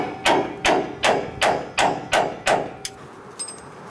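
Seven sharp metal hammer strikes in a steady rhythm, knocking a wheel cylinder loose on a 1982 Ford F150, close and loud, followed by a couple of lighter taps and a faint metallic ring.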